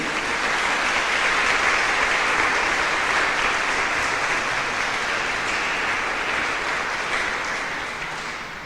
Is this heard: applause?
yes